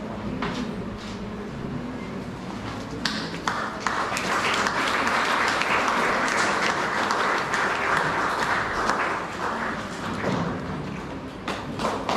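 An audience at a teacher's retirement farewell party claps, starting scattered and swelling into sustained, fairly loud applause before thinning out again toward the end.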